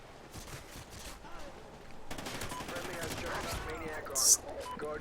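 Vector submachine gun fire in Call of Duty: Ghosts, bursts of rapid automatic shots at moderate level mixed with game ambience and a louder burst near the end.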